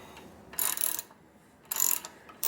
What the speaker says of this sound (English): So now I'm going to tap the hole with the 24 thread per inch, the fine thread